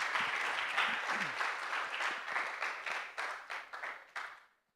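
Applause from a conference audience welcoming a guest speaker, broad steady clapping that thins into scattered claps and dies away at the end; a brief voice is audible partway through.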